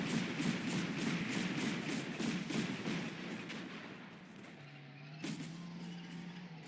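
A Bradley's autocannon in the Combat Mission war game fires a rapid, evenly spaced burst of sharp reports, then fades to a lower engine-like hum with one last isolated crack.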